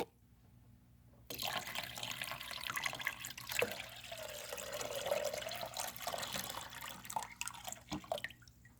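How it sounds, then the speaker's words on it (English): Water is poured and splashes steadily into an electrolysis tank holding rusty nuts and bolts, a continuous close-up trickle and splash after a brief quiet start. "so we're going to add some more water"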